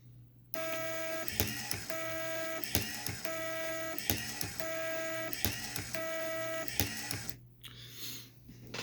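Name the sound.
automatic wire cutter cutting five 1-inch wires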